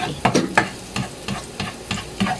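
Red onion sizzles in a hot pan while a spoon stirs it in a quick series of scraping strokes, soft and close, with a constant frying hiss underneath.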